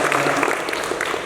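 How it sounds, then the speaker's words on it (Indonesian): Brief clapping from a student audience at a campus information session, a short burst of scattered applause with a little crowd noise. "Tepuk tangan dulu teman-teman semua."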